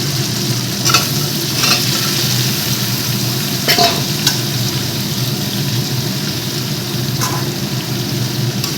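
Vegetable biryani masala being stir-fried together in a pan, a steady close sizzle with occasional scraping clicks of the spatula throughout.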